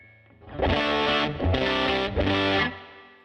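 Electric guitar through a Fractal FM3 modelling a Deluxe Tweed amp with the drive turned up, giving three loud distorted strummed chords, each ringing out briefly before the next.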